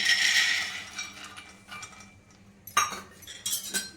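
Peanuts being dry-roasted in a hot kadai, stirred with metal clinks and scrapes that come in light, irregular taps after an initial burst of rattling, close by and with no talking.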